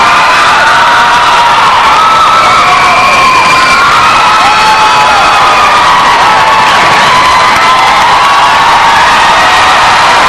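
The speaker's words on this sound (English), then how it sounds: "Crowd comes alive here for the Commodore." A large crowd cheers loudly and continuously during Best in Show judging at the 1993 Westminster Kennel Club dog show, with a dense roar of shouts and whoops throughout.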